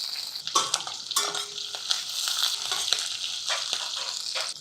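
Mustard seeds, garlic, curry leaves and sliced green chillies frying in hot oil in a pan, a close, steady sizzle with crackling pops and occasional spoon scrapes against the pan.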